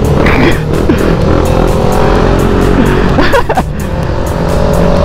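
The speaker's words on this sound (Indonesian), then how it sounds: "Ui, bunyi motor ni." Close, loud motorcycle engine revving and pulling away at a motovlog meet-up before riding to Langat, with a deep rumble, rising and falling throttle blips and another vehicle passing.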